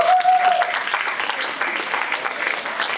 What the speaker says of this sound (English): A round of applause for the decent man he was, Mr. Bruce Forsyth.